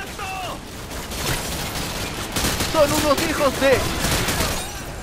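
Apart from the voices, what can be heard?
gunfire in video game Call of Duty Modern Warfare 2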